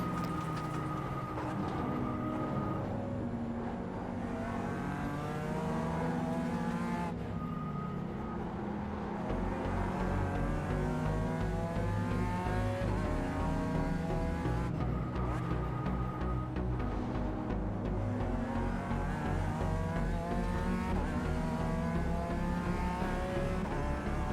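A GT4 race car engine drones in the iRacing video game on the Nordschleife, loud and continuous, climbing through the revs with repeated gear shifts. Other cars' engines blend in around it.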